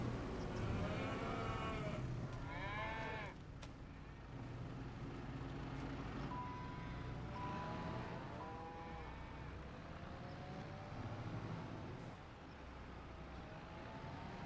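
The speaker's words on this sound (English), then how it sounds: "those cows are loud" Cattle in Farming Simulator 25 moo loudly and repeatedly, several long drawn-out lowing calls spread across a steady farmyard ambience, close and prominent, with no talking.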